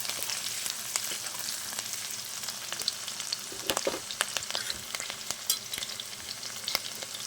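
Chopped chilli, ginger and garlic fry in hot oil in a pan, a steady loud sizzle broken by repeated scraping clicks as a utensil stirs, with no speech.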